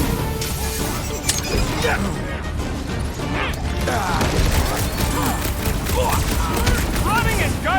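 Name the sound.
gunfire while running on rooftops, from a video game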